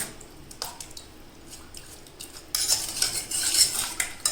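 A spoon stirs two spoonfuls of fresh cream into milk for a sago sweet, with light clinks and wet swishes against the pot that grow louder and busier halfway through.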